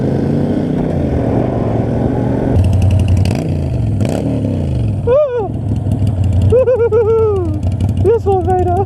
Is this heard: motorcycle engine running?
yes